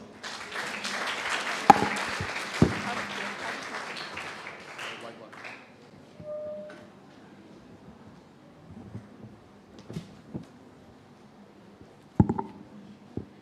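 Audience applause for a school drama club at a club expo, a broad burst of clapping in the first five seconds that fades out, followed by quieter room noise and a few scattered thumps.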